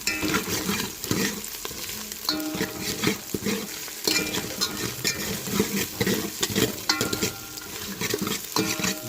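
Onions, chillies and ginger garlic paste sizzle steadily in a hot pan while a utensil repeatedly scrapes and stirs, clattering against the metal in irregular strokes, close up and without talk.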